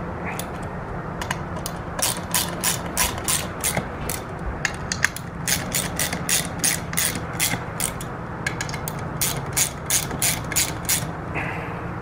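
A hand ratchet clicks steadily while tightening the sprocket bolts on a Yamaha FZ6R, its rapid pawl clicks coming close and loud in repeated strokes over a continuous low background hum.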